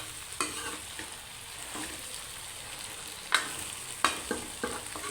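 Okra and onions cooking in oil in a pan, a steady soft sizzle with a few sharper clicks and scrapes of a spoon stirring through it, close and fairly quiet.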